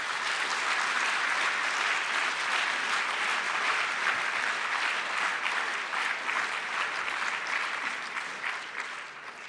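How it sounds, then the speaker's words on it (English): A banquet audience gives sustained, dense applause for competition sponsors at a student design competition banquet, a steady roar of many hands clapping that holds evenly throughout before easing slightly at the end. "Let's have a big round of applause for all of the competition sponsors."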